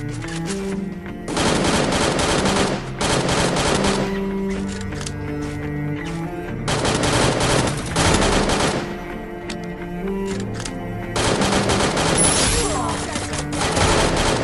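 Heavy bursts of automatic gunfire from the Free Fire battle royale game come in loud repeated volleys with brief lulls between them, while a player talks over the shooting.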